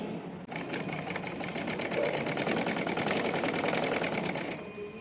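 A sewing machine runs close and steady for about four seconds, rapidly stitching the neck edge of a Punjabi dress, then slows to a stop.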